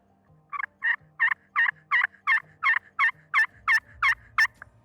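A slate turkey call worked quickly, producing a series of about a dozen evenly spaced, sharp, loud yelps in a steady rhythm, close and clear with no talking over it.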